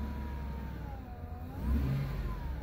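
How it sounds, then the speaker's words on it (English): A Chevrolet 8.1 Vortec engine is revved once, a faint, low swell of engine noise rising and falling over a steady idle rumble, heard at some distance. "I rev up the engine"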